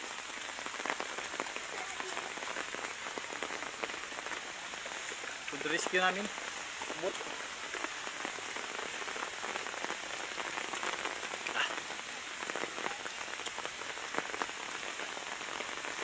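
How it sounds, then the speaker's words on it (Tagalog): Steady rain pours down outdoors during a kite-flying outing in strong wind, a dense continuous hiss of drops drumming on surfaces, with brief voices and a short shout partway through. "Abutan talaga ng ulan"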